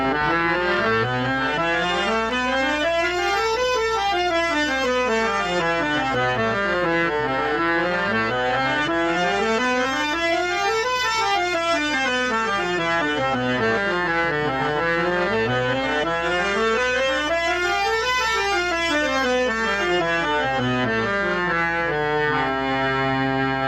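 Harmonium playing Rag Bilabo in continuous scale runs rising and falling repeatedly across the keyboard, a smooth reedy drone underneath and evenly stepped notes, loud and unaccompanied by speech.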